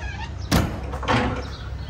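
A 2002 Chinook Destiny Class B+ motorhome's screen door bangs shut with a sharp thump, followed a moment later by a softer rattling knock as it settles, with faint background noise.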